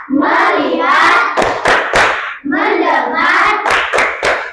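A fifth-grade primary school class does a rhythmic focus clap routine, with patterned bursts of sharp hand claps repeated twice, with chanting voices over them.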